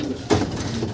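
A racing pigeon gives a single short, soft coo close by, a brief throaty note over faint background noise.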